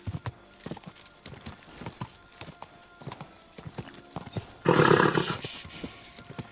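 A horse from Kingdom Come Deliverance 2 gallops with rhythmic clip-clopping hoofbeats, then gives a loud, brief whinny near the end, close and prominent.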